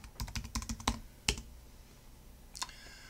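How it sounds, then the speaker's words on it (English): Typing on a computer keyboard while logging in to an online homework account: a quick run of crisp key clicks, a louder tap, then a pause and one more keystroke, close and fairly quiet. "so we type our email address, our password, log in"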